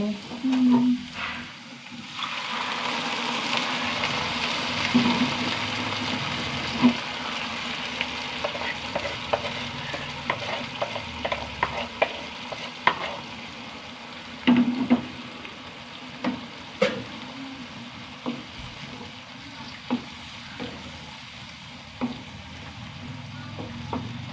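Spinach frying in a pan and being stirred, a steady loud sizzle with repeated scraping stir strokes running throughout.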